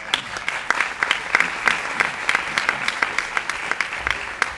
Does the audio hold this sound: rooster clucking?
no